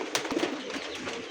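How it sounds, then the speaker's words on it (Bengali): A pair of jet-black racer pigeons coo softly in short low murmurs among faint rustling and background clatter, fairly close but quiet. "ব্ল্যাক রেসার কবুতর একটা জোড়া দেখাই দিয়েছি"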